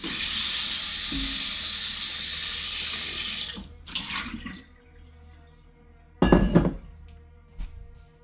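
Tap water runs loud and steady into a kitchen sink while a stand-mixer dough hook is rinsed, breaking off near the end and followed by a couple of short splashing bursts and a clunk.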